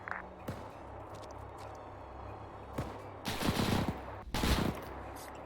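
Machine gun fire in a French Resistance campaign shooter, a few isolated shots early followed by two loud, close, rattling bursts near the end over a low ambient background.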